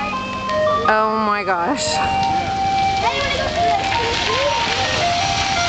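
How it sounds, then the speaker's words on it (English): An ice cream truck's chiming jingle plays as it drives down a street during a wildfire evacuation in Oceanside, California, the melody clear over steady background noise while a person speaks briefly. "we got the ice cream truck coming down the street"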